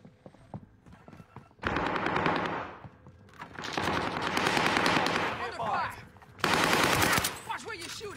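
Rapid automatic gunfire from a video game blasts in three long loud bursts separated by quieter gaps, close and dense, with a little talk in the lulls.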